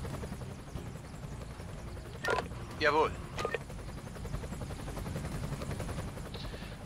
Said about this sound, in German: Vergessen Sie nicht, den Rettungshelikopter einzusetzen, um versorgte Opfer schneller ins Krankenhaus zu befördern.